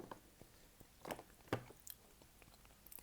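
A crunchy snack is bitten and chewed close to the mic: a few sharp, crisp crunches spaced irregularly, with softer squishy chewing sounds between them, quiet overall and free of speech.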